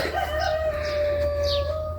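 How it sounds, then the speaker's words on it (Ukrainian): A rooster crows in one long, loud call close by, with faint birdsong in the background. "пташечки співають, півники кукурікають"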